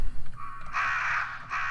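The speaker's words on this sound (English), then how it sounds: "Doesn't appear to be anything in here but some squawking crows." Crows caw in the Resident Evil video game, three harsh squawks in close succession, the last two loud and drawn out, over a low ambient hum.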